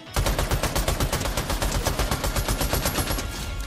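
A shotgun fires in Fortnite in a rapid, evenly spaced stream of loud, punchy blasts, roughly ten per second, that continues without a break and stands alone with no talking.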